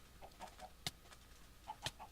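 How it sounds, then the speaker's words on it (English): A Minecraft chicken clucks in short, quiet bursts, with two sharper clicks or hits standing out among the soft clucks. "let's get attacked by a chicken."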